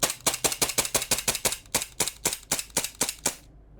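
Krownland 4.5mm airgun pistol firing with blowback, a rapid string of about sixteen sharp, loud close-up snaps at a quick, slightly uneven rhythm, then silence.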